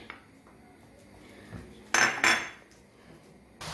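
Minced chicken breast being stirred in a pan with butter, a few sharp metallic scrapes and clinks of a utensil against the pan standing out over a quiet background, with no one talking.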